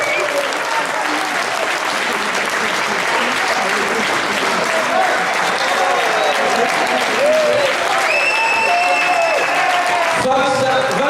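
An audience applauds the winner after a fight with a continuous, loud wash of clapping, with cheering and voices mixed in throughout.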